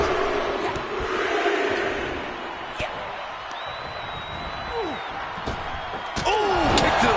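A wrestling powerbomb slam lands in WWE 2K25 during a Clash at the Castle match. Crowd roar, commentary and sharp impact thuds fill the arena, with a rising whistle-like tone and swooping cries near the end.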